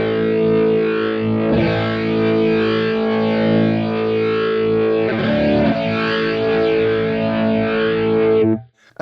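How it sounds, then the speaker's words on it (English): Guitar through a Boss GX rotary Leslie speaker effect, a sustained distorted chord with a swirling, warbling modulation, loud and close, with a fresh strum partway through before it cuts off near the end. "you can minimize the actual sound of how much rotary you're hearing"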